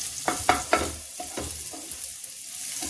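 Rice flour fare snacks frying in a pan, with a few sharp spatula scrapes and stirs early on over a low, steady sizzle that settles into quieter crackling.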